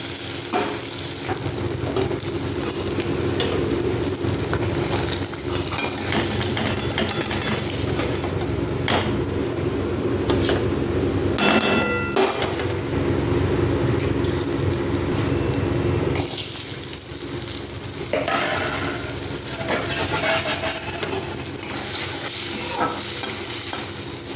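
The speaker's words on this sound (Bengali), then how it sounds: "মাছের মাথাতে লাল লাল করে ভেজে নেওয়ার পর ওর মধ্যে কিন্তু আমি আলুর টুকরোগুলো দিয়ে দেবো" Fish heads and potato pieces fry in hot oil, a loud continuous sizzle with stirring and scraping throughout, a burst of rattling near the middle and brief splashy water noise, no one speaking.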